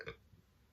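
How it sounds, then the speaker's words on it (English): A single brief, quiet burp after a drink of ginger ale, a low throaty croak that fades into a soft room hush. "make me burp a lot"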